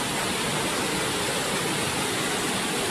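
Waterfall in cold outdoor terrain with a cave behind it: a loud, steady broadband roar of rushing water, constant and dense throughout, no voices.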